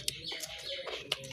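A pet myna bird gives a series of sharp, close chirps and whistled calls in short bursts, loud against a quiet room with no talking.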